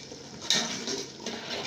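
Spaghetti sauce of tinned tomato, onion and pepper frying in a pan gives a steady, moderately loud sizzling hiss, with a brief clink of a utensil against the pan partway through.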